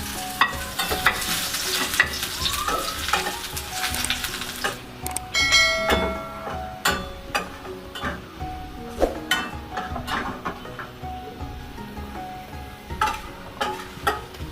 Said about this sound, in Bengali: এখন এর মধ্যে আমরা অ্যাড করব রসুন কাটা।